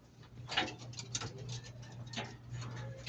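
A Lemon 84 broodcock pigeon sitting out of its cage, faint soft cooing and rustling nearby over a low steady hum, short and quiet with no talk.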